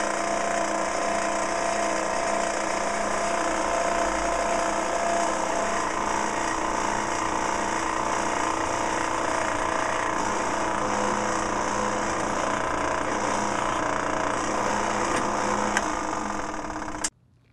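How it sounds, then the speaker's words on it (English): A drill bores through a steel flat bar with a steady, loud whine and grinding hum that stays even for about seventeen seconds before cutting off abruptly. "But first I'm going to drill this hole, or actually 2 of them in this flat bar."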